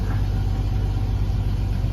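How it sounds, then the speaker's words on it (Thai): A Jeep XJ with a swapped ZJ engine computer idles smoothly, giving a steady, even low rumble close to the microphone with no revving. "เครื่องยนต์เดินนิ่งปกตินะครับ"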